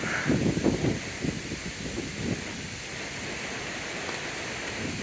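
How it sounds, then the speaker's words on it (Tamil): River water rushes steadily at Hogenakkal falls in Karnataka, a broad, continuous roar that stays fairly loud and even throughout, with a slightly busier patch near the start. "தண்ணி போகுது பார்த்தீங்களா"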